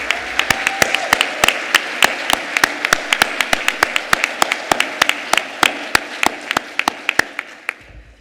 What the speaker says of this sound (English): Let's give a round of applause for all of our award recipients